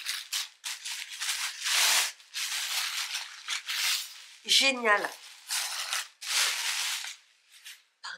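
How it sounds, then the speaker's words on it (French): Wrapping paper crinkles and tears close by in repeated bursts as a parcel is unwrapped indoors. Someone speaks briefly in French partway through. "Pardon pour le bruit du papier"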